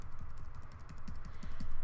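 Computer keyboard arrow keys are tapped in a quick, even series of light clicks, close and clear, with no voice over them.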